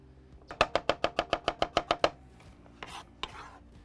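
Radishes are chopped on a board for slaw, a quick run of about a dozen evenly spaced, crisp knife strikes, followed by a few softer handling noises.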